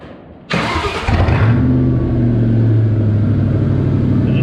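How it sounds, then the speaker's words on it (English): A Factory Five Cobra Roadster engine cranks and catches with a sudden loud burst, then settles into a deep, steady, rumbling idle close by. "I'm gonna fire it up. I think it's sounding pretty good now, but let me fire it up for you so that you can hear it."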